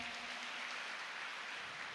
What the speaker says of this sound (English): One more round of applause for Lauren.